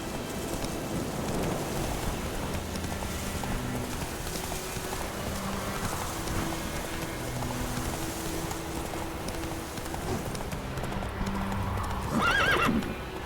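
A horse galloping in The Witcher 3 video game: steady clip-clop hooves with a whinny near the end, over a rainy ambience with faint distant thunder.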